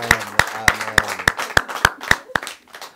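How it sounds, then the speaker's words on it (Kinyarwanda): A group claps in a steady, even beat, about three claps a second, at a family baby-naming celebration; the claps are close and sharp over a faint humming tone. "Reka twongere Imana amashyi nanone."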